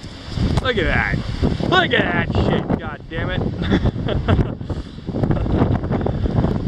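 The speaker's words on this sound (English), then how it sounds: "holy shit, it's a windy day" Strong gusts buffet the microphone on a windy day in Valparaiso, Chile, a loud, continuous roar and rumble with someone speaking over it throughout.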